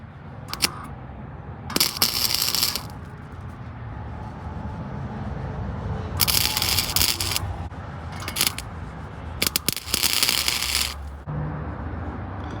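Tack welding a bent flange onto a pipe, with several short bursts of crackling arc, each lasting about a second, over a steady low shop hum. The bursts are fairly close and loud, and no one speaks.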